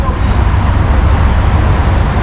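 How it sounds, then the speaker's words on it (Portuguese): Road traffic gives off a loud, dense, low rumble of passing cars that holds steady without a break for the whole moment. "Esse barulho todinho de carro, gente"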